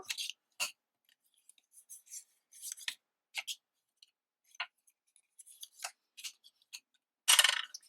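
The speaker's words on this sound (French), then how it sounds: "On va simplement donc former des plis au plioir" Paper being creased into folds with a bone folder while making a small folded box: quiet, scattered scraping strokes and rubs, each brief, close by, with a louder rasping pass near the end.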